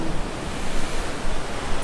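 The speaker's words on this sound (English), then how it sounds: "And just enough ocean." Ocean waves wash continuously at a beach resort in Ixtapa, Mexico, a broad, loud surging roar with slight rhythmic swells and a windy hiss, no voices.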